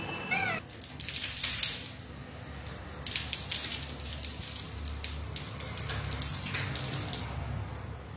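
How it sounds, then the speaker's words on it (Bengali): Heavy rain pouring in one spot during an outdoor song shoot, a dense continuous hiss and patter close by, steady throughout with a few brighter splashes and a brief chirp at the very start. "মারাত্মক বৃষ্টি পড়ছে"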